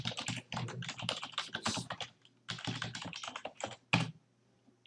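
Payment details being typed on a computer keyboard: quick bursts of close, crisp key clicks in uneven runs, with a brief pause midway and a louder final keystroke.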